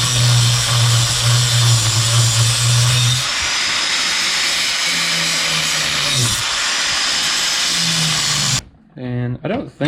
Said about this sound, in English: then take the angle grinder with a cutting wheel.